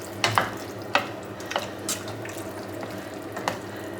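Pasta seasoned with salt is stirred in a pot in a home kitchen, with scattered light scrapes and watery clinks at an irregular pace over a low simmering hiss, close and fairly quiet.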